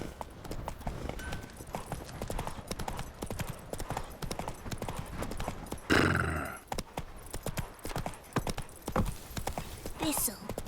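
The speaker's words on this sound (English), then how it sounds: "Run, Roach" Horse galloping in the video game The Witcher 3, a quick steady clip-clop of hooves throughout with a brief whinny midway, accompanied by game voices talking over the hoofbeats.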